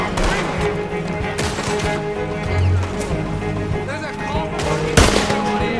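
Gunfire in the Red Dead Redemption 2 video game, with repeated shots crackling through a dense, busy mix of game sounds and music, one sharp loud report standing out near the end.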